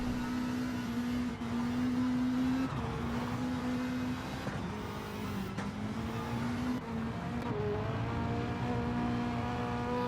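Race cars in a racing video game run side by side in a close battle for second place, with steady droning engine tones rising and shifting in pitch throughout, continuous and fairly loud.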